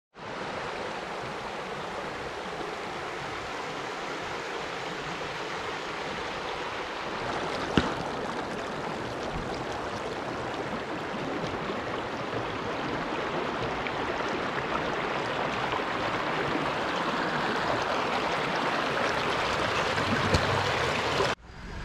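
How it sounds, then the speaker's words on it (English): A river rushes steadily beside a campsite at Bowman Lake, a constant broadband flowing roar, fairly close and unbroken. "it is a really nice spot next to a river"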